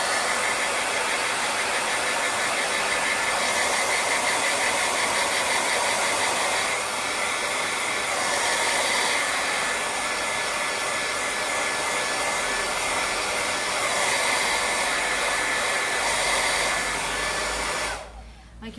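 A hair dryer blows steadily on freshly painted shabby-style flowers, a loud continuous whooshing hiss that runs unbroken for most of the clip before cutting off near the end.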